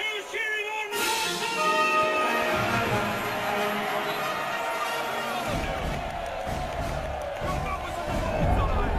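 Spectators cheer and shout together at a medieval jousting tournament, a loud, sustained crowd roar with whoops rising over a dense babble of voices that swells toward the end.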